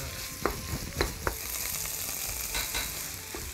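Paneer bhurji frying in a pan, a continuous sizzle broken by several sharp spatula scrapes and taps as it is stirred, close up without speech.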